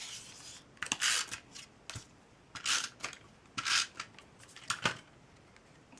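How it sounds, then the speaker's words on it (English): A tape runner presses adhesive onto a paper piece for a Christmas card, making several short, close rasping strokes in an irregular rhythm. "just use my tape runner"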